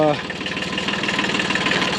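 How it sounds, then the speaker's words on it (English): A farm tractor engine idles close by with a steady pulsing low throb and fast regular knocking beat, loud and continuous, while a voice speaks briefly at the start. "got the tractor all filled up"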